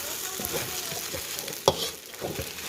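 Steady sizzling of egg and rice stir-frying in a pan, with occasional scraping and clatter from stirring throughout.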